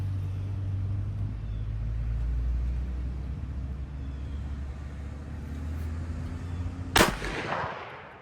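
A single sharp gunshot from an H&R gun at an outdoor shooting range, loud and close, cracking out and echoing away after several seconds of low rumbling background.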